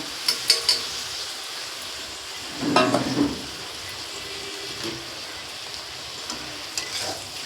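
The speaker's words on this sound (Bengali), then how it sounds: "এবার আমি এঁচোড়টা দিয়ে দেবো।" Young jackfruit goes into frying spice paste in a pan, with a quiet constant sizzle, a burst of louder clattering as it is added and stirred, and scattered lighter scrapes afterward; nobody talks.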